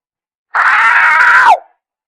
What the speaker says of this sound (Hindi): नव्या जोर से चिल्लाई।